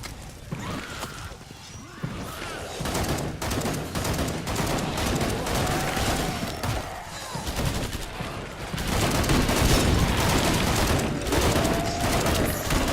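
Gunfire from the video game Killing Floor 2, played with a demolitionist build, fills the whole stretch as dense rapid bursts and blasts without pause, loud and close.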